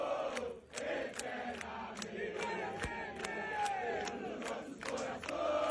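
Corinthians football fans chant and roar outside the stadium before a match, a dense crowd of voices with rhythmic shouts and sharp bangs or claps punctuating the steady din.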